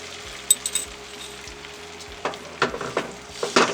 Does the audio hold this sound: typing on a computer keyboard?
no